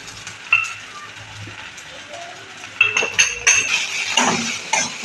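Spiced potato mixture being stirred with fried spice powder in a pan, giving scattered scraping and clinking of a utensil against metal, louder and busier toward the end, with no talk.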